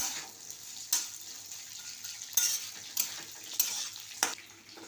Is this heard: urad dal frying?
yes